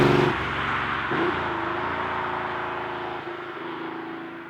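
A Porsche 911 (964) Carrera 4 with all-wheel drive on a back road, its engine holding a steady droning tone from inside the car, loud at first and easing slightly as it cruises, with no voices.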